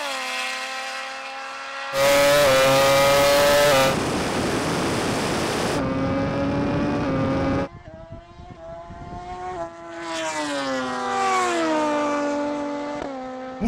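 Drag race launch pitting a Rimac Nevera electric hypercar against a MotoGP bike and a turbocharged Suzuki Hayabusa: loud engine roar bursts in, then rising, shifting high-pitched engine and electric-motor whine sweeping upward through gear changes as the machines accelerate away.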